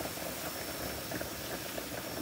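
Oyster mushrooms cook over medium heat in a pan, releasing their water with a steady, soft sizzling bubble that runs evenly throughout, close and moderately quiet, with no talking.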